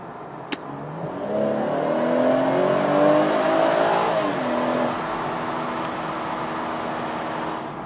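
A 2019 BMW 440i Cabrio's six-cylinder engine revs up hard at full throttle in sport mode, the pitch climbing steadily before easing back to a steady drone, heard from inside the car.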